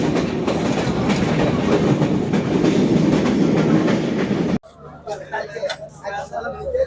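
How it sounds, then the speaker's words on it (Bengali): A passenger train rolls along with a steady loud rumble and clattering wheels, heard from on board, then cuts abruptly to a quieter scene with background chatter. "এই হচ্ছে আমার ট্রেন, দেখতেই পাচ্ছেন।"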